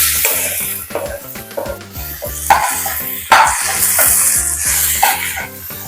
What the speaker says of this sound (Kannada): ಇದಕ್ಕೆ ನಾನೀಗ ಒಂದು ಮೀಡಿಯಂ ಸೈಜ್ 2 ಟೊಮೆಟೊ ಸೇರಿಸ್ಕೊಳ್ತಾ ಇದ್ದೀನಿ